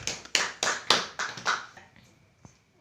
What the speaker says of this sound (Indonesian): Tepuk tangan untuk Jetsa Kaila.